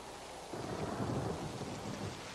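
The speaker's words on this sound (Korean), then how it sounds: "대부분의 뇌우는 100킬로톤의 핵폭탄에 버금가는 에너지를 발산합니다" Thunderstorm with dense heavy rain and a deep rolling thunder rumble swelling in after a moment, loud and continuous with no voices.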